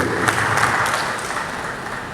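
An audience at a formal meeting applauds the speakers, a steady wash of clapping at moderate volume that thins slightly toward the end.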